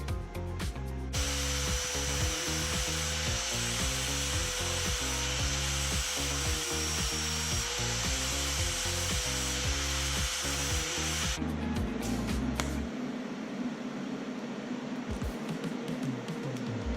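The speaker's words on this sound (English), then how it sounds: "You can do a little trimming there, fit it up with the flap wheel" A flap wheel grinder whirs steadily while trimming a stainless steel motor mount for a Sportster chopper, a loud continuous abrasive drone that stops near the end, leaving quieter shop noise.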